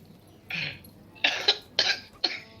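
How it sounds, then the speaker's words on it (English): Four short, harsh coughs spaced apart, close by, with a brief pause after the first and the last three coming in quicker succession. "I'm just coughing up some mimosa"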